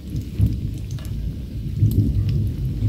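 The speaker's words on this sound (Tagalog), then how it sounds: "Ang lakas pa ng kulog guys. Ang lakas ng ulan dito." Heavy rain roars steadily with deep rumbling thunder beneath it, swelling louder in a couple of places during a power outage; no voices.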